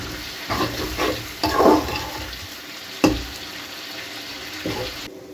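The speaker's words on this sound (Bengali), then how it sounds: "এবার চাল ডাল ভাজার পালা, এটাকে খুব ভালো করে ভেজে নিতে হবে" Rice and lentils fry in a pan with turmeric for beef khichuri, stirred with scraping strokes over a steady background hiss, with a sharper scrape near the middle.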